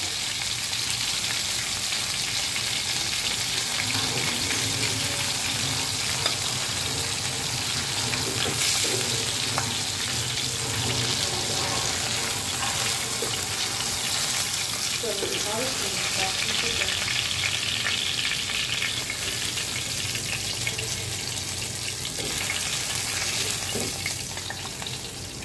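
Fish frying in a pan, a steady loud sizzle running continuously throughout with occasional light stirring or scraping, no talking.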